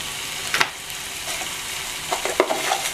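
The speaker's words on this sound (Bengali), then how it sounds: "এবার আবার কষিয়ে নিচ্ছি ভালো করে।" A spoon stirs spiced egg curry gravy frying in oil in a pan, with a steady close sizzle broken by a few scraping strokes against the pan, and no talk.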